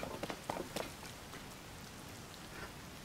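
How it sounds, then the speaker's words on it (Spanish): Steady rain falls in The Legend of Zelda: Tears of the Kingdom, a soft even hiss with a few louder spattering drops near the start, then a constant wash with no voices. "Está lloviendo, vamos a esperar que amaine un poco"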